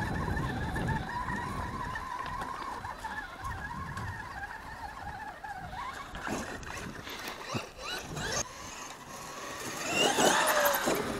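A Traxxas X-Maxx RC monster truck drives hard outdoors and pops a wheelie, its electric motor whining in rising and falling tones with rough tire and terrain noise, swelling louder near the end.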